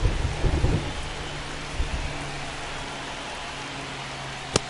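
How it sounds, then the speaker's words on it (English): Heavy rain pours steadily throughout a baseball game in MLB The Show 25, with a low rumble of thunder early on and a sharp crack near the end, no talk over it. "This rain is not letting up."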